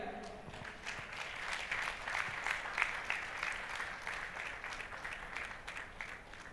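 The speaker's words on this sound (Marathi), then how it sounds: "हां, जोरदार तालिया" Crowd clapping for singer Vaishnavi at a Sahaj Sangeet performance during Shree Adishakti Puja at Saptashrungi Gad, a dense steady applause lasting throughout, moderately loud and fairly even.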